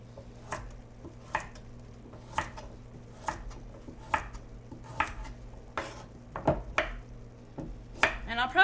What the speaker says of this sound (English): I'm just going to give them a quick chop